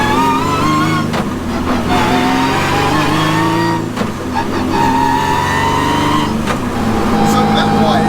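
A Mitsubishi Evo fitted with an R35 GTR engine and sequential transmission accelerates hard from inside the cabin, a loud droning engine rising in pitch through gear changes, with people talking over it.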